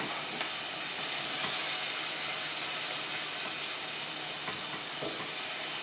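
Onions sizzle in a hot pan, a steady close frying hiss that holds even throughout with faint stirring clicks and no voices.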